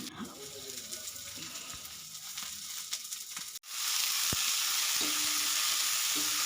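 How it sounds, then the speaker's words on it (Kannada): Onion and tomato fry in a pan for sambar, with a steady broadband sizzle that turns louder and hissier partway through, with a few stirring scrapes and clinks and no talking. "ಈಗ ಇದು ಫ್ರೈ ಆಗ್ತಾ ಇದೆ"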